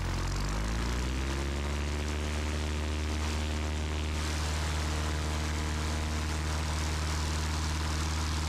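A Piper Warrior propeller plane starts its takeoff roll on runway 32 at Goodspeed Airport in Connecticut, its engine droning loud and steady as the pitch climbs with power during the first few seconds, heard from inside the cabin.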